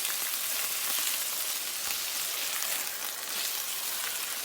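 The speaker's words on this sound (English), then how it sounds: "Just let them sear and brown, and then see how they turn out." Steaks searing and browning in a hot pan, a dense continuous sizzle and crackle at steady loudness, close up, with no voices.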